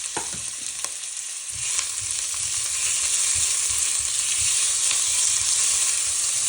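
Onion, tomato and curry leaves fry together in olive oil for a South Indian chicken curry, a loud, even hiss of sizzling that swells after a brief quieter start and then holds steady, with soft low stirring bumps underneath.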